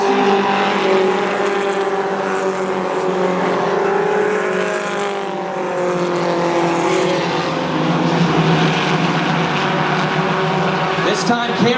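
Race cars roaring around an oval track, a loud sustained engine whine with shifting pitch as cars pass close, with a commentator talking over the noise.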